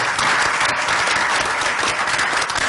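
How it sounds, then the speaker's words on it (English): Steady, dense applause fills the conference hall for the staff and volunteers of a panel on Muslim societies in a globalized world. It holds at an even level throughout, with no voices rising above it. "Please give them a round of applause"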